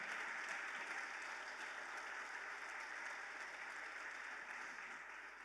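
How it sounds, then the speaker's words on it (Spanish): Congregation applauding the Lord during a church sermon, a faint, distant, even patter of many hands that holds steady with no talk over it. "aplauda al Señor"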